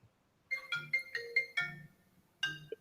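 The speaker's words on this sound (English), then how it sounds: "That phone. Get that phone." A mobile phone ringtone plays a short bright melodic phrase of several quick tones, pauses, then starts again, clear and fairly close with no talk over it.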